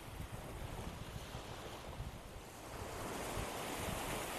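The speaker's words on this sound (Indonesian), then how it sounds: "Sekarang saya berada di Pantai Kuthang" Ocean waves washing onto Kuthang Beach in Aceh, a constant rushing surf roar with wind noise buffeting the microphone, swelling louder toward the end, no voices.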